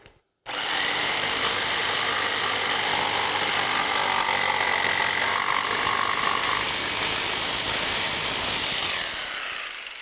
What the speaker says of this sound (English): I'm gonna use the jigsaw to cut off the extra material